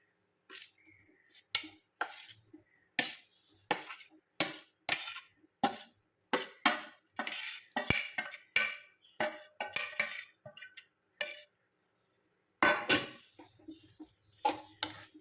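Sausage pieces being stirred into a masala in a pan, with hot water just added: a run of sharp spoon or spatula knocks and scrapes against the pan, close and fairly loud, with short gaps between strokes.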